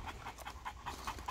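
An American Bully dog pants steadily and close up, a quick rhythmic run of breathy huffs with no talking over it.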